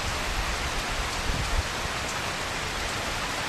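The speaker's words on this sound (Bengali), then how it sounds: "একদম তেড়ে বৃষ্টি পড়ছে আমাদের এখানে" Dense, heavy rain pours steadily, a loud unbroken hiss of drops drumming on surfaces, with no voices.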